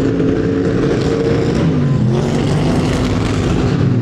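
A car with a rough, bad-sounding engine drives past near a parking area, its dense low rumble steady and loud throughout with a slight swell as it goes by.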